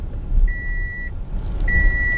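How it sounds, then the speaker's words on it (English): Two steady high-pitched electronic car beeps, each lasting about half a second, sound over a low rumbling engine drone. "Let's wait till this beeping stops."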